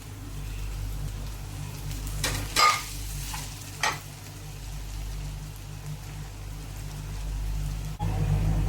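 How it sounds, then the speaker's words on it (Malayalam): Sliced onions sautéing in a pan for chicken curry, an even close frying hiss broken by a few loud scraping stirs and clunks of the spoon against the pan, no voices. "ഇതേപോലെ ഗോൾഡൻ കളർ ആകുന്നിടം വരെ വഴറ്റിയെടുക്കുക"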